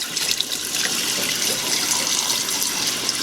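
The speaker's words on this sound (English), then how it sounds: "So we get it really good and rinsed off." Tap water runs steadily into a kitchen sink while a whole raw chicken is rinsed before roasting, a close, continuous hiss and splash with no talking.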